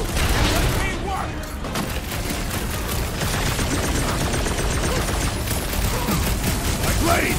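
Gunfire in the video game Marvel's Guardians of the Galaxy: rapid, continuous bursts of shots and mechanical weapon effects, steady and dense throughout.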